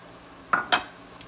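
A spoon scrapes and clinks twice against a pot of jambalaya with tomato sauce and dried seasoning being stirred, two quick close strokes with a faint third tap after.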